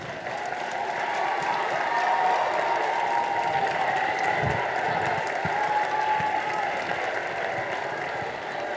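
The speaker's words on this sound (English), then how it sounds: "let's give Mr. Jackson another round of applause, please" A school assembly audience for a Black History Month program applauds steadily and loudly, a dense, sustained wash of clapping from a large crowd of students with no pauses.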